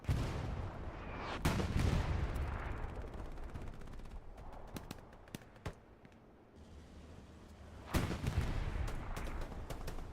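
Scattered gunfire crackles across a night battle in the Hell Let Loose video game on the Kursk map: sharp single shots and short bursts, some near and loud, others distant, with a heavy burst near the end.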